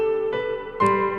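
A sustained guitar note, then a second chord, each ringing into a spacious, lingering room reverb from a UAFX Golden Reverberator pedal, with a smooth tail.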